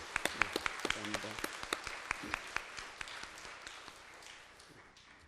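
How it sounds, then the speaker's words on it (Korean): A church congregation claps in welcome for a worship leader, a short burst of scattered, fairly distant applause that thins and fades, with a brief spoken thanks. "박수로 우리 환영하겠습니다"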